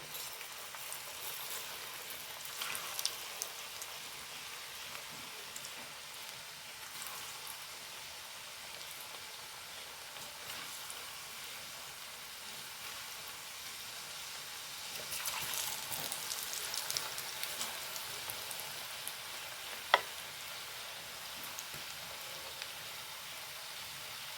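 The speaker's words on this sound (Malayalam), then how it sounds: "ആദ്യം പഴം വറുത്തെടുക്കുക" Quiet, continuous sizzle of raw plantain frying in oil, crackling a little more in the middle with one sharp pop, no voices.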